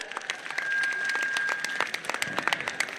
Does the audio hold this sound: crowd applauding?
yes